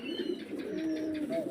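Pigeons coo softly at close range, a low warbling call rising and falling through a brief moment with no talk.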